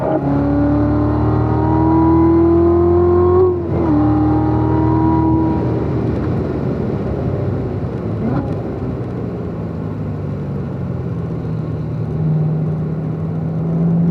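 Race car engine held at full throttle on a track, a loud, close, sustained high-pitched drone with a brief dip around a shift, then easing and falling to a lower steady hum.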